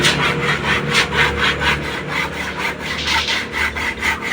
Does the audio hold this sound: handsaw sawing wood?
yes